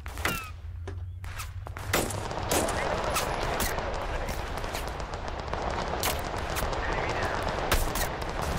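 Gunfire in the video game Total Conflict: Resistance crackles in rapid bursts and single sharp shots, some close and loud, others distant, over a continuous battlefield rumble.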